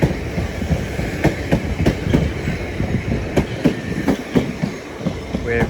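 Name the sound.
Class 377 train arriving at East Croydon station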